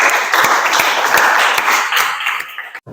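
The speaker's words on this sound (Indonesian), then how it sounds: "Boleh tepuk tangan dong?" Audience applause at an Indonesian lecture, a dense burst of many hands clapping loudly and evenly for under three seconds, ending abruptly.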